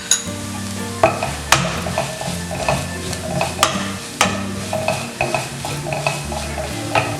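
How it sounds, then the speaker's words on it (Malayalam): Ground spices such as garam masala and chicken masala sautéing in a pan, with a continuous low sizzle broken by repeated sharp scrapes and knocks of a spoon stirring against the pan in an irregular rhythm, close and fairly loud. "എല്ലാം കൂടി നല്ലോണം ഇതിൻ്റെ പച്ചമണം മാറുന്നത് വരെ സോട്ട് ചെയ്ത് കൊടുക്കുക."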